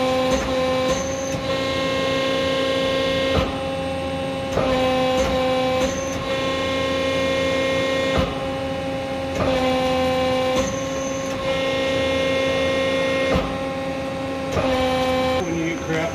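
An Accupress press brake's ram rising, a steady mechanical hum and whir with tonal drone, interrupted by periodic clunks and shifts, loud and near, with no voices.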